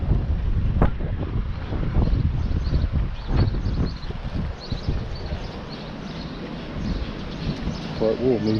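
Wind gusts outdoors on a Scottish road trip buffet the microphone with a low, rumbling roar that rises and falls throughout, while indistinct voices are faintly audible.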